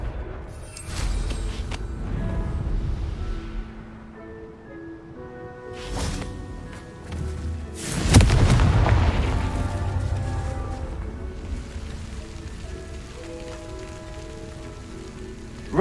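A Confringo blasting spell explodes in Hogwarts Legacy, a sharp fiery blast rising mid-way through a quiet ambience of music and crackling game effects.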